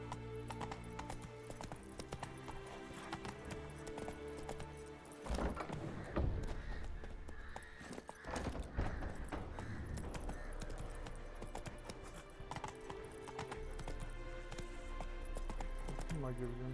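Horse hooves clip-clop at a gallop in the Witcher 3 video game, a steady rhythmic beat over game music, with a horse whinny and someone speaking over it.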